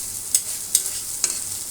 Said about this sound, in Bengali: চিকেন ভাজা হচ্ছে।